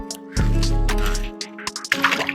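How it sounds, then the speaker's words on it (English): A bike wades through a deep bog water crossing on a Florida bikepacking trail, with a sudden heavy slosh and gurgle of churned water, then scattered drips and squelchy splashes close by. "Every 100 feet, there's just a big water crossing that you have to go through"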